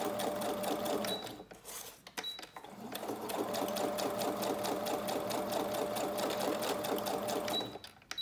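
A sewing machine runs a straight stitch around a label, forming a frame. The motor hums steadily and loudly with brief pauses near the start and end, when the fabric is turned.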